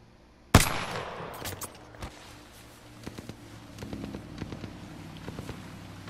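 A single loud gunshot from a weapon in the Apex Legends firing range cracks out close, followed by several quieter scattered shots and impacts echoing over a steady game ambience.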